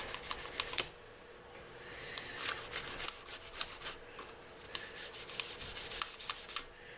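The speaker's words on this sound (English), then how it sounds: "grab us another rag. And we'll just give this a nice little buff" Dry cloth buffing the frets of an electric guitar under construction, a soft rubbing swish in short repeated strokes, close and quiet, with a few sharper flicks and taps between passes.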